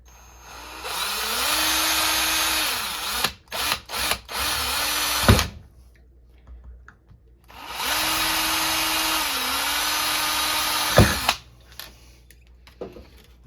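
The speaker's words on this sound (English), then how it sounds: "we've got 2 holes drilled" Power drill boring holes for an external antenna modification on a Wyze Cam Outdoor base station: two long steady whining runs, each several seconds, with brief clunks between and after them, close and loud with no speech.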